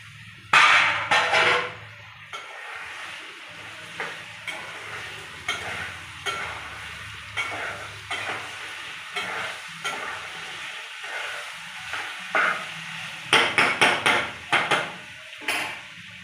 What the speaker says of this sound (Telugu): ఇంకా చికెన్ అయితే వేసుకోండి, ఆవగించిన చికెన్.